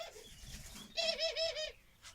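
A turtle dove gives a soft, close cooing call, a short rolling series of throaty notes, with faint rustling before it.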